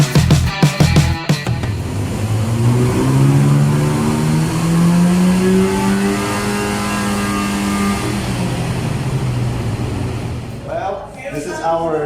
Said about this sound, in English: I will load it to the car and then dyno again